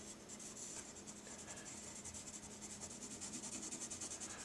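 A pencil rubs across paper in steady back-and-forth shading strokes, a soft continuous scratchy hiss that is close and quiet, with no voices.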